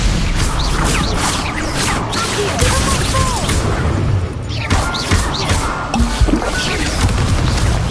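Combat sound effects in Hogwarts Legacy as the Stupefy spell is cast, with loud crashing impacts, booms and whooshing bursts layered over game audio and no clear talking.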